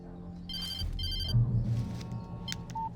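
Telephone in a video game ringing in two short bursts of electronic bell tones over a low ambient drone, followed by a faint beep.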